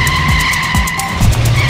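A supercar skids hard with tires screeching: sustained high squealing tones over low engine rumble and sweeping tire scrubs, close and loud, with no voices.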